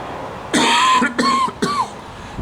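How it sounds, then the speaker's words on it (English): A man coughs three times in quick succession, close and fairly loud, each cough harsh and separated by short pauses in an otherwise quiet room. "And before I just continue to cough."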